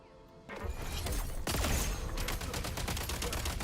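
Gunfire in the Genshin Impact video game, a loud, dense rattle of rapid shots that starts abruptly and continues in a steady burst, with a heavier impact midway.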